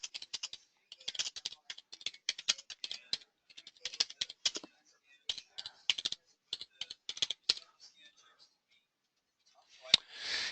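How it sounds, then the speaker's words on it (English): Typing a short note on a computer keyboard: close, crisp bursts of rapid key clicks in uneven runs with brief pauses, ending in a louder final tap and a soft rustle. "I'm going to go ahead and put a little typed note in here"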